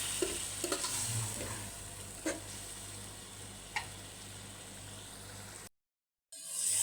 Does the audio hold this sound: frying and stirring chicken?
yes